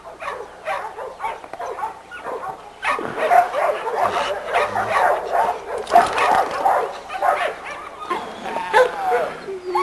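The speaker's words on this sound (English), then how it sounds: "But this is a very fine dog right here" A dog in a kennel yard barks, yips and whimpers loudly and near in busy, overlapping bursts that fill most of the stretch.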